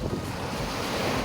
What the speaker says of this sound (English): the waves of the lake continuously hit the shore and remove soil and sand